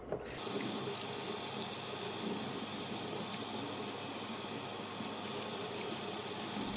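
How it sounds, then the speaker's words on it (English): Tap water runs steadily into a sink while a homegrown luffa sponge is washed with dish soap, a continuous close rushing with no speech. "I'm going to put some dish soap over it, Dawn or, Myers, whatever you use, and just wash this thing really good"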